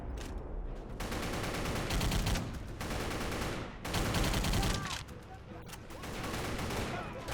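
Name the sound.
gunfire mowing down enemies in a video game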